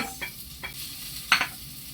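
Onion sautéing with browned garlic in hot oil for a gourd and sardine dish, a steady sizzle broken by a few scraping stirs and one sharp louder burst near the end.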